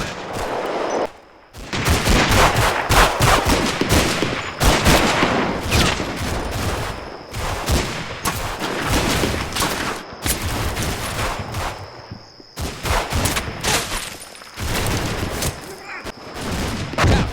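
Gunfire in the WWII tactical game Combat Mission: Fortress Italy crackles in loud, rapid bursts and fusillades of rifle and machine-gun shots, with short pauses, as Italian defenders fire from houses near a beach landing.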